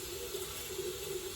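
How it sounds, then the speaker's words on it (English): Water poured steadily into the plastic pitcher of a Soyabella soymilk maker, a continuous close splashing fill with a faint ringing tone from the vessel, heard alone. "let's get water into the Soyabella pitcher"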